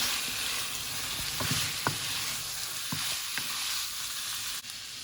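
Makalla fish mixture sizzling steadily in a pot for a Congolese-style bouillon, with a few soft scrapes and taps from a stirring spoon cutting through the constant hiss.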